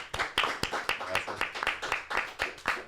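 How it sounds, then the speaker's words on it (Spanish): A studio audience at a televised panel debate applauds a guest with steady, fairly close hand clapping that holds for several seconds at an even rhythm. "Un aplauso también"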